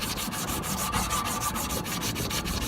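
Sandpaper works over the shaft of a condenser fan motor in quick, regular back-and-forth strokes, a continuous rhythmic rasp heard close and alone.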